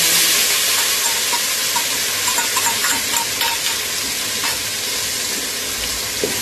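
A ginger, chili and garlic paste hits hot oil in a pan with turmeric while making Rajkot-style chapadi undhiyu, sizzling loudly and steadily as it is stirred, with occasional scraping clicks of the spoon.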